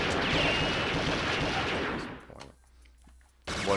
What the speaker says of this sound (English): What gun are you shooting?